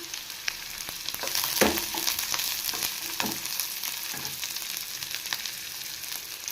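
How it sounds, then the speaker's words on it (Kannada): Cinnamon, cloves and cardamom fry in hot oil alongside onions for an egg and chicken sambar. A continuous close sizzle runs throughout, with several louder stirring bursts. No voices. "ಗೋಲ್ಡನ್ ಕಲರ್ ಬರೋವರೆಗೂ ಚೆನ್ನಾಗಿ ಫ್ರೈ ಮಾಡ್ಕೋಬೇಕು ಚಕ್ಕೆ ಲವಂಗ ಏಲಕ್ಕಿ ಸೇರಿಸ್ತಾ ಇದ್ದೀನಿ"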